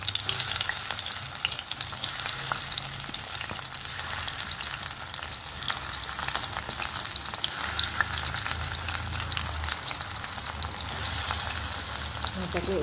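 Paneer fritters fry in hot oil in a wok, giving a steady, dense sizzle and crackle that runs continuously at close range, with occasional stirring noises.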